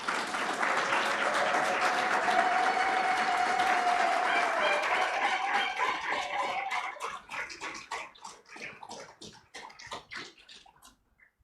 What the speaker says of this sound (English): I would like us to welcome Prof. Kezia Batisai with a warm round of applause.